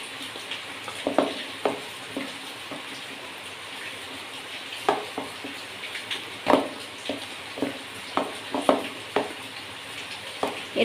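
Palm fruit batter stirred with milk in a bowl, soft wet squelching and occasional clinks at an irregular pace over a faint background hiss.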